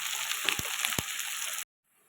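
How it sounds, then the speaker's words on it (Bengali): Onions sizzling in hot oil in a pan as they turn light golden, a steady close hiss with a few soft stirring knocks, ending abruptly in silence. "হালকা সোনালি করে এটাকে ভাজতে হবে।"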